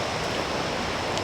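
River water rushes steadily across a mostly dry riverbed where the flow runs fast, a dense, continuous hiss close by with no pauses.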